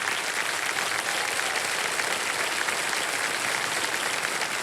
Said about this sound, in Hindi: जोरदार ताली बज जाए।